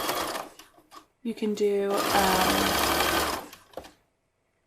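A sewing machine stitching a leggings seam runs in one steady, loud burst lasting a couple of seconds. A voice speaks briefly just before it starts.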